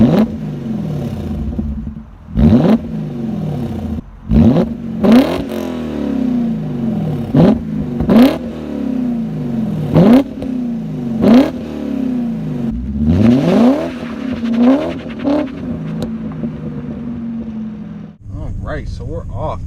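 A BMW M car drives and accelerates, its engine rising and falling in repeated rev sweeps with sharp gear-change breaks roughly every couple of seconds, loud and close throughout before dropping off at the end.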